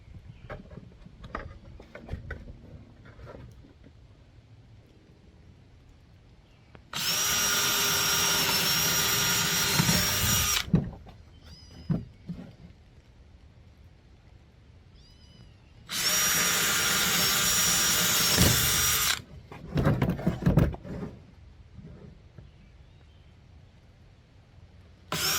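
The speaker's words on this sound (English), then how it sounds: "We'll get those drilled out and get it bolted up" Power drill boring holes through a plastic kayak hull, two sustained loud whining bursts of several seconds each, separated by quieter handling noises and clunks.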